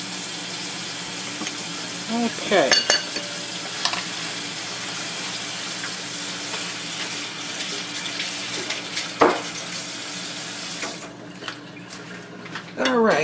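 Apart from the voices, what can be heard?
cold water running from a kitchen faucet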